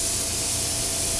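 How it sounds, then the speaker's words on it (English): A steady, loud hiss of spray paint being applied to a Kawasaki motorcycle wheel during restoration, continuous and close with no breaks. "And you should always spray in both directions too"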